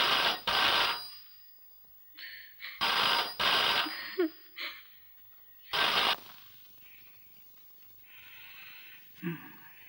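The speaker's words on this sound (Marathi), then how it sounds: "प्रकाशचा फोन." A telephone rings indoors in repeated loud bursts with short gaps between them, alternating with brief moments of other household sounds.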